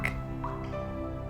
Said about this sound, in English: the droplets that pattered onto the ground were thick